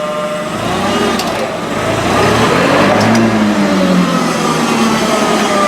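A Mitsubishi lift truck with a stick shift and a failing clutch, its engine revving steadily and loudly, with the pitch rising and falling as the revs change. No talk is heard.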